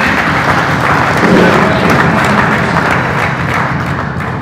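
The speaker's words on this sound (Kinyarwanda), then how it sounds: "muhe imana amashyi menshi cyane" Dense crowd applause at a wedding ceremony, a steady wash of many hands clapping that carries on without a break for the whole stretch.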